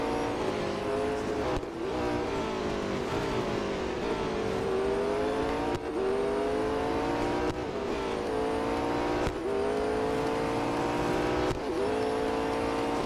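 McLaren race cars roar through gear changes in the Real Racing 3 mobile game, one loud engine note climbing and dropping again and again over a continuous drone without speech.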